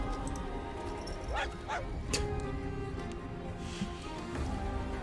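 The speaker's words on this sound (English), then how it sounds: "The dog/fox barked at us." A dog or fox barks a few times at moderate distance over steady background noise, with short yipping calls and no talk during the sounds.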